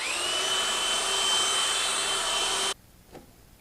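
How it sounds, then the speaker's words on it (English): A power drill fitted with a mixer paddle, mixing grout, whirs steadily at high speed, a continuous close mechanical whine that cuts off abruptly, followed by a faint knock. "So I got this mixer and I'm going to put it on my drill."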